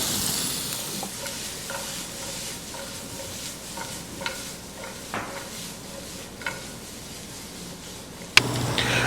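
Onions cooking down in a pan give a steady close sizzle with small scrapes and stirs of a utensil through it, and a sharp knock comes near the end.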